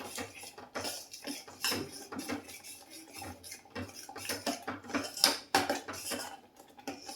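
Puliyogare rice being mixed with spice powder in a steel vessel, a spoon or ladle scraping and clinking against the metal in quick, irregular strokes, close and fairly loud.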